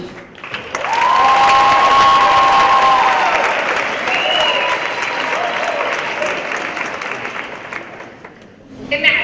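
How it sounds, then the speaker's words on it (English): An audience at a speech contest applauds as a speaker is welcomed. Dense, sustained clapping fills the room for about eight seconds with faint tonal ringing over it, then dies away before another swell at the very end. "Please help me in applauding Chelsea."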